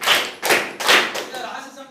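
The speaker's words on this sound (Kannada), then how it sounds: "ಚಪ್ಪಾಳೆ" Students in a classroom give a short burst of clapping, a few loud separate claps close together that quickly fade out.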